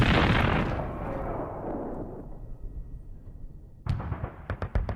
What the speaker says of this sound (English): The second type is a shell which explodes on impact and simply rips the tank